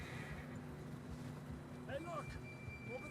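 A horse whinnies in Red Dead Redemption 2 on a snowy mountain climb, a short wavering neigh that surfaces midway through a steady low rumble of wind and hooves, with a second fainter call near the end.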